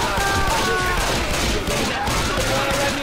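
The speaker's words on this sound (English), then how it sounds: "Can you stop shooting me?" Rapid, overlapping gunfire from the video game Left 4 Dead 2 rattles continuously in dense bursts, loud and close, with faint tonal game sounds beneath.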